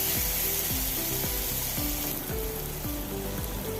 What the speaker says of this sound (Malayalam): തക്കാളി അരിഞ്ഞത് വലിയ തക്കാളിയാണ് അത് ചേർത്ത് കൊടുക്കുക നല്ലപോലെ ഇളക്കി കൊടുക്കാം